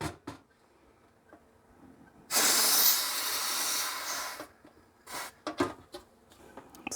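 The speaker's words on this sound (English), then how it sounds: "we're going to use some compressed air" Can of compressed air spraying onto old computer parts from a 2001 Duron Socket A build, a single hissing burst of about two seconds close up, with faint handling clicks before and after.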